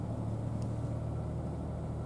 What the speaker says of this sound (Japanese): エンジンの始動音も、あの、3気筒感感じます？